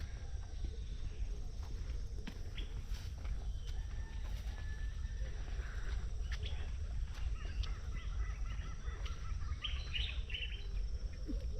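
Birds call and chirp on a morning beside a rice field near the mouth of the Gambia River, scattered short calls over a steady low background rumble in open outdoor air.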